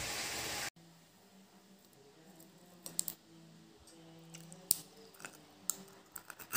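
Crunchy food being chewed: quiet, scattered crisp crunches with irregular spacing over a very low background, and no talking.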